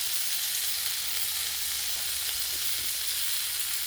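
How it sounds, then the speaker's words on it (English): Pork ribs sizzle steadily on a Blackstone griddle, a continuous broadband crackle and hiss that holds at an even, moderate level throughout with no talking. "put them on the griddle"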